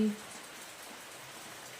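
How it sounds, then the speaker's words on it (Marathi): Rain falls outside beside a home garden, a soft, steady, continuous hiss with no distinct drops, fairly faint throughout; a voice is briefly present at the very start. "पाऊस चालूच आहे आता थोडंसं जरा कमी झालं आहे"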